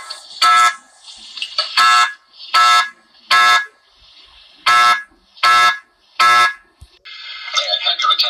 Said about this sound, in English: Yay, I pulled the fire alarm.